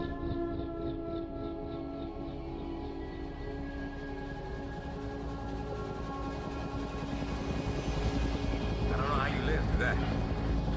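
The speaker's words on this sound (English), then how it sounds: "we are picked up by a helicopter and flown away" A helicopter in the video game F.E.A.R. makes a steady droning rotor and engine roar with a rhythmic chop, heard throughout and rising slightly toward the end, with in-game sound effects layered over it.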